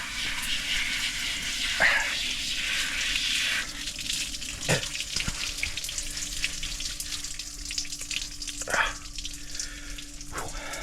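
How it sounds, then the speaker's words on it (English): A portable hot shower running outdoors in the woods, a steady close spray of water with occasional splashes and small knocks throughout, no talk. "hot shower in the woods."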